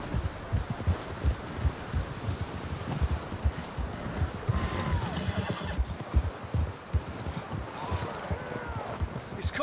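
Horses whinny and neigh with clip-clopping hooves in the Red Dead Redemption 2 video game, a steady busy layer of hoofbeats and movement with a couple of rising neighs in the middle and near the end.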